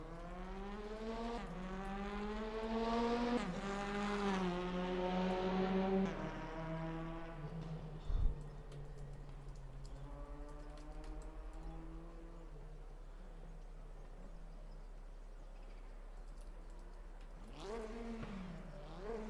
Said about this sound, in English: That's a loud Alfa Romeo, isn't it? That's in the back box coming out of the pits.